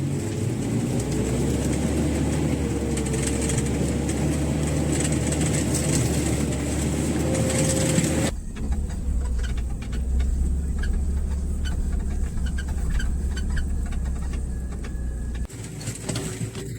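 Steady engine drone and road rumble from inside a moving UAZ Buchanka van, loud and continuous, with a shift in tone partway through as the drive goes on.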